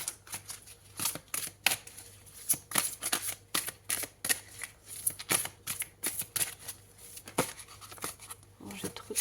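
Tarot cards of the archangels being shuffled by hand, a run of crisp, irregular riffling and slapping bursts close up, with a voice talking quietly in between.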